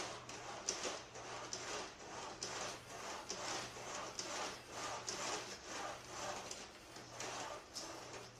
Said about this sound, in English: Let's hit it on the sander.